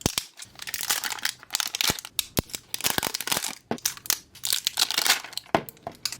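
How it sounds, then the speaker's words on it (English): Outer plastic packaging being peeled and torn off a set of Minecraft toy potion kits, with dense crinkling and crackling bursts that run continuously, close and fairly loud. "So let's remove the outer packaging first."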